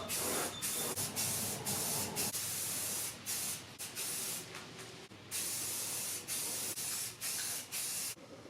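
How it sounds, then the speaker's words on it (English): Primer sprayed from a paint gun onto car parts in a home garage, a steady close hiss in repeated bursts of a second or two, each ending with a brief pause. "I'm finally going to be spraying on some primer"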